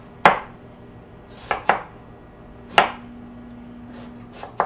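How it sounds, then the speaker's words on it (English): A knife slices through a root vegetable on a cutting board for a pork stir fry, producing several sharp, distinct chops at an uneven pace, close and clear with no talking. "I'm just going to cut these into like nice thin slices"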